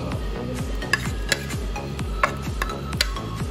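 Chili and other ingredients sizzle in a pan while a utensil stirs them, with a steady frying hiss and a few sharp scrapes and taps against the pan.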